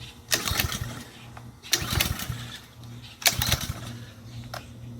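A Ryobi power washer with a new carburetor, new spark plug and fresh gas being pull-started: three separate bursts of engine sputter and cranking that fail to catch, with quieter gaps between attempts.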